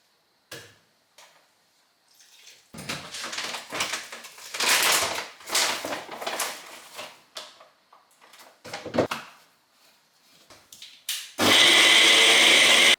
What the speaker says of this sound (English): That is it all blended up and popped into my glass.